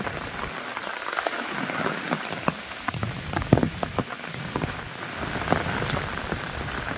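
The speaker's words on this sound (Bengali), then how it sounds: "তো এই যা বৃষ্টি পড়ছে" Steady rain falls outdoors the morning after Cyclone Remal, a dense continuous patter of drops on surfaces with a few sharper nearby drips standing out, fairly close and with no talk.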